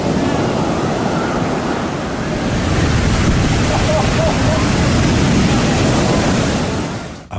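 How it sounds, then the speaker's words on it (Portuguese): Powerful ocean surf pounds the shore at Lumahai Beach on Kauai, a loud, continuous, dense roar of breaking waves with no pause. "as ondas do oceano chegam à costa com força total"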